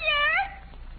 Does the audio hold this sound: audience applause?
no